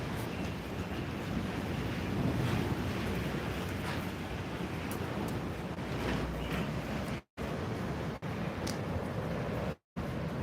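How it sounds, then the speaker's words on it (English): Strong, steady wind blows outside a barn, a broad, constant roar with buffeting gusts hitting the microphone. It cuts out briefly twice near the end. "It's not really a tornado, but it's really windy."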